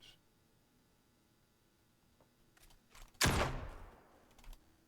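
A single bullet impact in an Unreal Engine shooter lands as a sharp, loud crack with a short decaying tail, preceded by faint clicks and taps, with quiet stretches around it.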